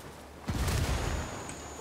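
A frag grenade explodes in a Ghost Recon video game, a single sudden blast with a rumbling, fading tail, moderately close and with no talking over it.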